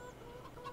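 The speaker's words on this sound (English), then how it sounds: "I've got chickens in there. I've got chickens everywhere." Clucking hens from Farming Simulator 22, a few short calls rising over a constant low game-engine drone, fairly quiet and close.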